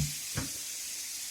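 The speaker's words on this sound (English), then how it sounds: "We are adding the onions and the tomatoes to start. I'm frying them off" Onions and tomatoes fry in a pan for a spaghetti and meatball sauce, a steady close sizzle with one brief stir or burst in the middle.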